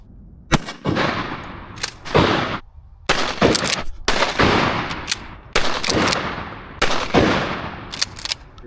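A shotgun with a choke fires outdoors in a quick series of about six loud, close blasts. Each shot is a sharp crack with a short decaying tail, some coming in pairs, and no talking is heard.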